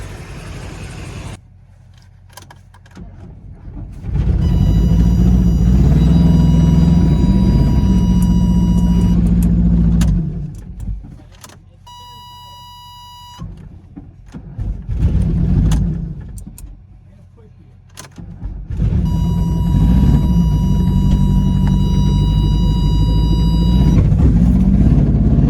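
Engine of a 1987 Dodge Colt Vista 4x4 running and pulling away, a steady low rumble that swells in two long loud stretches with a quieter idle between, faint electronic beeping over it.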